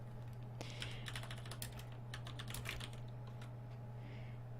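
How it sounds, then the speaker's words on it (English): Rapid clicking of typing on a computer keyboard, in irregular bursts of keystrokes over a steady low electrical hum, close and moderately loud, with no speech. "If anyone wonders why I'm typing out to Mikey, it's because he's deaf."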